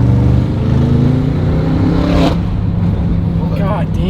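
A 900 hp BMW M550 tuned with turbo and E50 methanol fuel accelerates hard, its loud engine roar heard from inside the car, with a brief shift and renewed pull.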